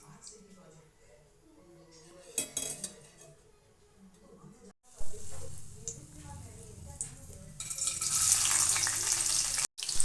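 Two spoons of oil going into a hot frying pan, with a voice talking over clinks of a spoon and pan, then a swelling loud sizzle that builds to a strong hiss near the end.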